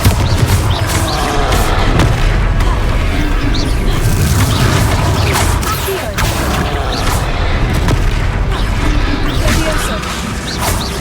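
Confringo fire-blast spell explosions in Hogwarts Legacy, a busy battle of booms and crashes over a constant loud rumble, with a voice speaking through the din.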